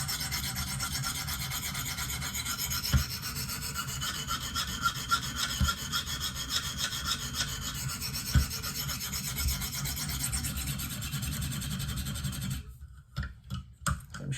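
KME sharpening stone worked on the tip of a Benchmade Steep Country knife: steady, close rasping strokes in a continuous run with a few sharper clicks, ending in several short separate scrapes.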